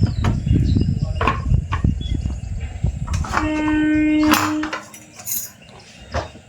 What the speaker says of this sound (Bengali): তাড়াতাড়ি করে আলুটা কেটে নিই